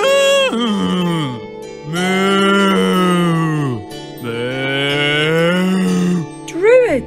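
A white cow with red ears lows loudly and close by, three long, drawn-out moos with falling pitch, followed by a short rising call at the end.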